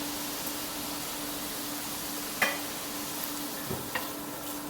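A steady frying sizzle of spice paste with coriander powder, with a few scraping stirs and soft clinks of a utensil against a pan, close by, no voices.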